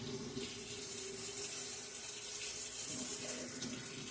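Warm tap water runs steadily from a faucet into a measuring cup, a continuous splashing hiss with a faint tonal pour that shifts slightly near the end, no talk.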